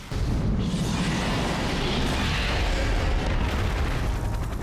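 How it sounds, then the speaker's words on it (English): Loud, continuous explosions and booming impacts fill the Godzilla PS4 video game as tanks and aircraft are destroyed, forming a dense, rumbling barrage with no pauses. "The roars are loud, impacts are booming, and you'll hear screams of agony as you destroy tanks and aircraft."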